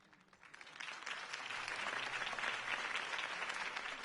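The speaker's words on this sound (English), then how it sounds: "If only Mr. Wayne, my campaign's largest backer, could have heard that applause" Applause follows a campaign speech in a Batman video game. A crowd claps steadily, swelling quickly from quiet to a full, sustained roar of hands and lasting to the end with no talk.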